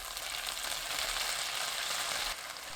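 Green chillies stir-fried in a pan give a soft, continuous sizzle, a fairly quiet, even hiss throughout with no voices.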